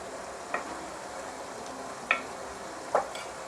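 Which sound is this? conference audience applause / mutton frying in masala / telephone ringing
mutton frying in masala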